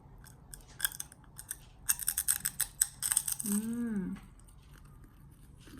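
Crunchy okra vegetable chips are bitten and chewed up close, a quick run of sharp, brittle crunches, followed by a short burst of speech.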